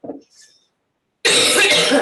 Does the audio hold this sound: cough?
yes